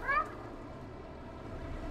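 Cat meowing in the video game Stray, one short rising meow at the start, close and moderately loud, followed by a steady low background hum.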